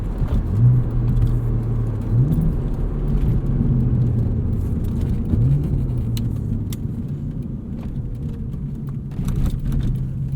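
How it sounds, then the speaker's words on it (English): A modified 2001 Audi S4 accelerates hard in first gear, its engine holding a loud, steady droning rumble with rising and dipping pitch and no talk. "Just roll it out in first gear and plant it and just feel how it snaps away."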